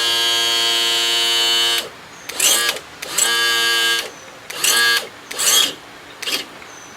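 A new tilt and trim pump motor on a 1992 Johnson 60 hp outboard whines loudly in one long run, then in several shorter start-stop bursts with brief silences between.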